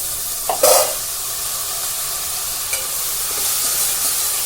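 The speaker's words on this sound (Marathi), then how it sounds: "आता यामध्ये आपण धुवून घेतलेली कोबी घालून घेऊया" Washed cabbage dropped into hot tempering with turmeric in a pan for a spicy Marathi cabbage stir-fry, giving a loud burst of sizzling and then a steady frying hiss with occasional stirring scrapes, with no talk.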